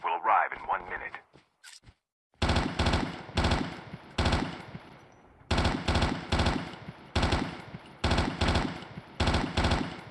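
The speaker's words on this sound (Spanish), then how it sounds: "No sé ni dónde estamos disparando." Rapid bursts of automatic gunfire in the mobile shooter Call of Duty Mobile, sharp close clusters of shots repeating in quick groups after a brief opening of voice and silence, loud and punchy.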